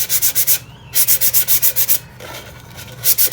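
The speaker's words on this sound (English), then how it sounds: "Now it doesn't need to be a wet sand." A Crystalac-coated tumbler is dry sanded by hand in quick, rhythmic back-and-forth strokes, producing loud, close, regular rasping bursts with brief pauses between sets.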